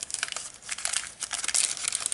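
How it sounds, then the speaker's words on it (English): Crinkly glassine paper envelope in a handmade junk journal being handled, giving close, continuous crackling and crinkling rustles with no speech. "And then this is another little glassine envelope."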